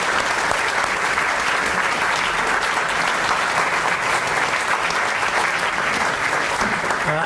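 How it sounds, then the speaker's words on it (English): Sustained, dense applause from a lecture audience at a Cambridge evening talk, an even wall of clapping that carries on loud and unbroken throughout. "So I think we should just applaud George"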